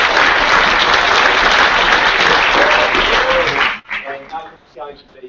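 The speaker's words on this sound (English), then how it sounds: "please give him a round of applause" A conference audience gives a presenter a loud, dense round of applause that cuts off abruptly near the end. A speaking voice follows in the quieter space.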